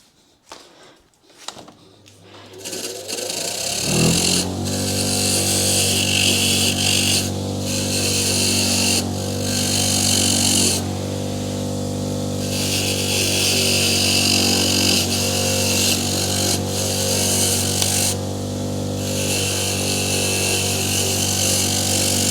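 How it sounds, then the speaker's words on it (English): A bench wire wheel spins up after a few knocks, then a steady loud whirring grind with rasping runs on continuously while cleaning a part, briefly dipping a few times. "So I'm going to clean that up on the wire drill."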